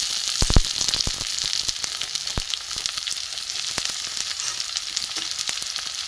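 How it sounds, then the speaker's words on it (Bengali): Chopped onions hiss and crackle in hot mustard oil with fried garlic, a loud, close sizzle carrying a few sharp stirring knocks early on, then settling into a steady, even frying rush. "ভাজা হয়ে গেছে, এতে আমি পেঁয়াজ কুচিগুলো দিয়ে দেবো।"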